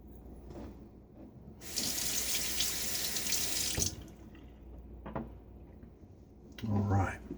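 A bathroom tap runs into a sink for rinsing during a wet shave, a close bright gush of water lasting about two seconds, followed by small splashes and handling knocks.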